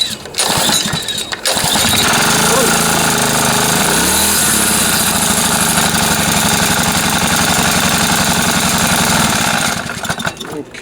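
A Honda GC160 5.0 horsepower small engine roars to life, runs loud and close with a rough chugging drone, surges and revs, then cuts off near the end.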